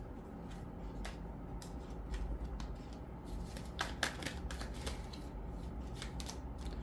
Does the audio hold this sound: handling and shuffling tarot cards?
yes